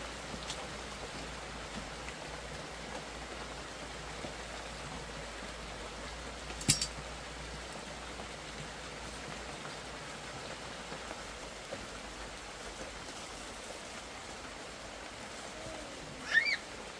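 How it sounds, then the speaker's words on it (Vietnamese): Rain falling around a rural home, a soft, continuous wash of drops at a distance, faint and even throughout, with a couple of brief louder knocks and no voices. "Trời mưa rồi."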